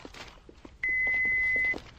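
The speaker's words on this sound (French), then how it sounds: "Après le bip." A home answering machine gives a single steady electronic beep lasting about a second, sounding clearly over faint background noise.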